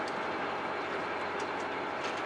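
Very old historic train riding through scenic wilderness near the Canada–US border in the Yukon, a steady rumbling wash of wheels and carriage noise with faint rattles, continuous and moderately close, no talk.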